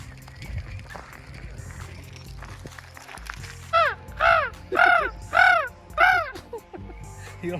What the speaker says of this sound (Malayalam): ദേശത്തുള്ള കാക്കകള് മൊത്തം